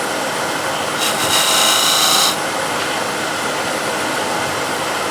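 A spindle gouge cuts a small chamfer into wood spinning on a lathe, a steady loud hissing scrape with a brighter, harsher burst for about a second before settling back to a constant rasp.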